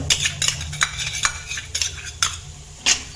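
Spring onion stirred and fried in a pan, a spoon scraping and clinking repeatedly against the metal in an uneven rhythm over a soft, steady sizzle.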